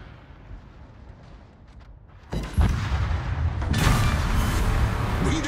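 In a naval video game an enemy battleship is destroyed amid loud, close booming explosions and gunfire that swell from a quieter rumble into a sustained roar.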